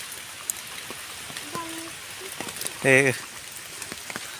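Rain falls in a mountain jungle on Gorai hill as a steady hiss, with a few faint bird-like calls and a short burst of sound partway through. A voice briefly says a word.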